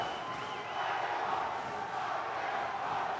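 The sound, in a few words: boxing crowd cheering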